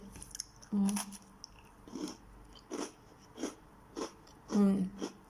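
Someone biting and chewing crunchy golden Oreo cookies, with a series of separate close crunches and chews spaced about a second apart against a quiet background.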